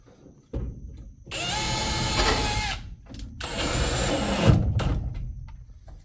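A power drill drives a screw into the wall of an old shed in two loud bursts separated by short pauses, close and alone with no talk.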